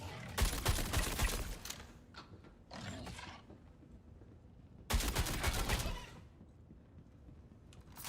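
Rapid bursts of automatic gunfire from a flight-combat video game played with a HOTAS setup, two dense volleys a few seconds apart with a brief mechanical sound between them, moderately loud.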